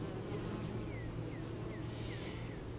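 Honeybees fan at the entrance of a hive after a swarm catch, making a steady close buzzing hum with a few passing insects whining by, and there is no talking.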